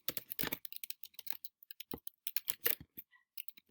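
Quick bursts of keystrokes clatter on a computer keyboard, close and crisp, in uneven flurries with short pauses and no one speaking.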